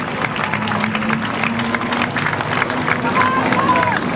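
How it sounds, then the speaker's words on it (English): Crowd applause and cheering at a speedway race event, broad and steady throughout with a crowd murmur beneath. "Let's give a big round of applause."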